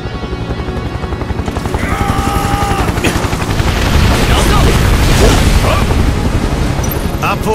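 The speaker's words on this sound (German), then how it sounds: "Der Hubschrauber!" A helicopter drops bombs in the video game Final Fantasy VII Remake, a loud, dense rumble of blasts and mechanical roar that builds and stays heavy throughout, with no talking.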